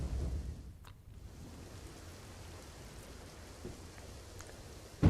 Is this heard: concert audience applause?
no